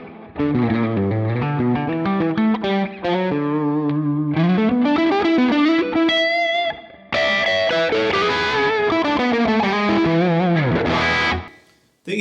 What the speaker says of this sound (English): It kind of has just like a fuzzy kind of thing to it.